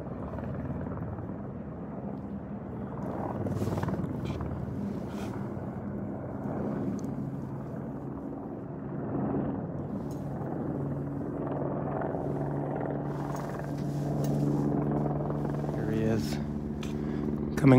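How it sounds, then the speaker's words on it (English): A search and rescue helicopter flies over Mt Baldy, its low rotor rumble steady and droning through the whole stretch, rising slightly near the end under wind buffeting and occasional talk. "I hear the search and rescue helicopter looking for the missing hikers."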